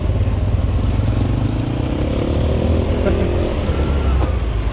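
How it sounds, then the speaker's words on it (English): Motorbikes rumble along a narrow town street, a constant loud engine drone with traffic clatter that persists without a break. "We got motorbikes around."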